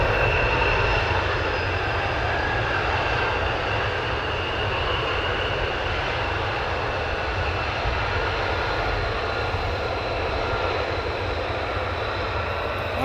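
A military jet takes off at RAF Lakenheath, its engines producing a loud, continuous, broad roar that holds strong for the whole stretch without voices.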